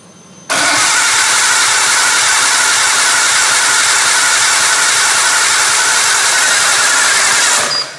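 A barn-find Nissan R32 Skyline engine, freshly installed, cranks over steadily for about seven seconds without catching, a loud continuous whirring churn that stops abruptly.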